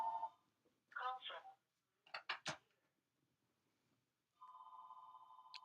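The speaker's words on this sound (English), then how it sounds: "there's my house phone again" A house telephone rings in short electronic bursts, separated by gaps, with a brief clatter like dishes in between. The ringing is moderately loud indoors.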